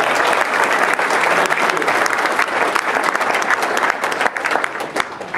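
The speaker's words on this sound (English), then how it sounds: "Can we give a round of applause for whoever cooked all that food?" Dinner audience applause fills the room in a dense, sustained patter of many hands clapping at close range. It stays loud, then thins slightly toward the end.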